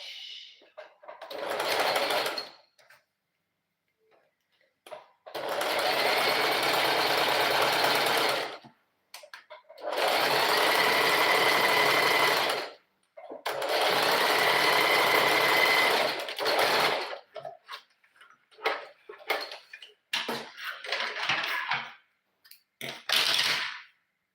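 A sewing machine top stitches fabric on the back of a handmade piece in several bursts of a few seconds each, a close, loud, busy mechanical rattle separated by pauses and short stop-start runs at the end.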